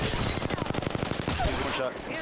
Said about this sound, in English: We're getting shot on the other side.